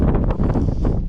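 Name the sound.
strong wind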